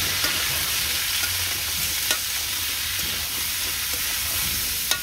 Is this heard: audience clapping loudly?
no